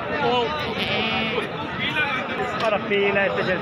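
Goats at a crowded livestock market bleat over and over, several animals overlapping at close range above a steady din of crowd chatter and talking voices.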